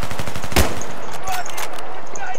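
Gunfire from a first-person shooter video game: one loud, sharp shot near the middle, followed by fainter scattered pops and game noise. No talk over it.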